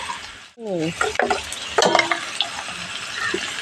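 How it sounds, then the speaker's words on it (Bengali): Cubes of raw potato frying in hot oil with a little turmeric, a steady close sizzle broken by a few sharp spatula scrapes and clatters against the pan. "আলুগুলো ভেজে নিচ্ছি"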